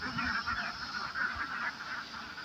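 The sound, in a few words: ducks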